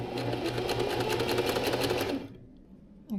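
A sewing machine running a stitch at a 2.5 width setting, a close, steady rapid mechanical whirr with even needle clatter for about two seconds, then stopping abruptly into near silence.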